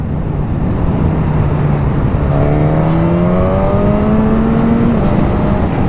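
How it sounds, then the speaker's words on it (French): A 2021 Suzuki GSX-S 1000 four-cylinder motorcycle accelerates hard, its engine rising steadily in pitch through the revs with a loud, continuous howl, partly masked by rushing wind noise. "Il commence à être chaud, on va pouvoir accélérer un petit coup quand même."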